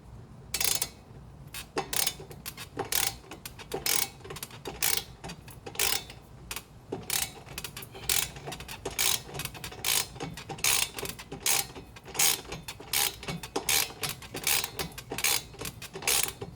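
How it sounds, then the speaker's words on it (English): Rapid ratchet wrench clicks in quick bursts, repeated over and over with brief pauses, close up and fairly loud, with faint mechanical clatter underneath, while working on a Can-Am Ryker 900. "y'all know what wrenching sounds like and looks like"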